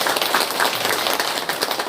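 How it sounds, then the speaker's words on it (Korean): A crowd applauds at a Buddhist precepts-taking ceremony, dense and steady clapping filling the room for a couple of seconds. "한 박수 드리겠습니다."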